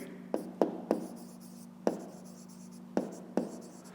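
A pen writes numbers on paper in close, quiet scratchy strokes, with six or so distinct sharp taps and scrapes separated by short pauses over a faint steady background hum.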